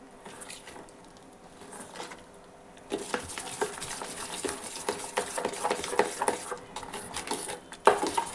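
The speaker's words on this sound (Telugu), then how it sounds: "ఇట్లా మిక్స్ చేసుకోండి అంతే ఈ కంటెస్టెన్సీ చాలు" Snack batter stirred in a bowl with a spoon, soft scraping at first, then busier clinks and swishes of mixing from about three seconds on, close and steady with no talking.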